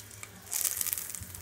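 Whole spices such as bay leaf, cinnamon, cardamom, star anise and cloves sizzle and crackle in hot oil in a pan, a steady close frying hiss for mushroom biryani.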